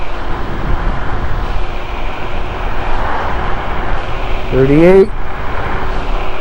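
A dual-motor Onecna GT9 electric scooter accelerates at speed outdoors, with steady wind and road roar throughout, a brief rising whine near the end, and a rider talking over it.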